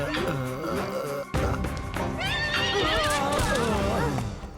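A horse whinnies loudly in a long, wavering neigh, followed by a second rising whinny, close and prominent over background sound, in an animated Pandavas episode.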